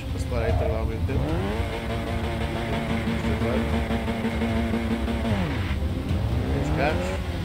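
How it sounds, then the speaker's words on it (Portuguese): A race car in Forza Motorsport 6 revs hard and brakes, its engine tone climbing and falling in sweeping steps with tire squeal, loud and continuous throughout. "Mas agora vamos acelerar e travar ao mesmo tempo"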